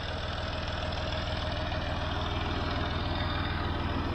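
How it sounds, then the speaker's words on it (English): John Deere 5055 tractor pulling a spring tooth cultivator through a field under load, its engine a steady, rhythmic low chugging drone, close and continuous with no talking. "And I'm definitely working the John Deere. It's doing a good job, but it's certainly under load."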